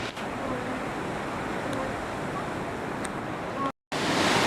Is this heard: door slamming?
no